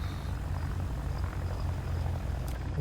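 Engine drone of an aircraft passing over the battlefield in the tank game War Thunder, a steady low rumble that stays fairly faint and even, with a brief higher flicker near the end.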